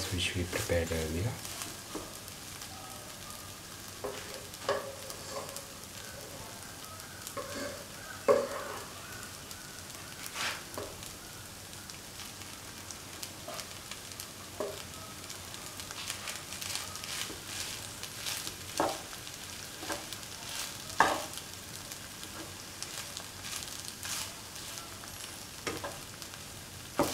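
Okra fried rice sizzles quietly in a pan as it is stirred, with a soft continuous fry broken by scattered light scrapes and clicks.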